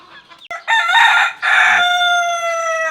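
A Japanese emperor long-tailed chicken crows loudly nearby, one long drawn-out call broken by a short pause and trailing off, with faint background noise around it.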